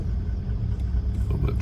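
A four-wheel drive vehicle rolls downhill in low range, a close, steady low rumble of engine and tyres on a dirt track, with no voices.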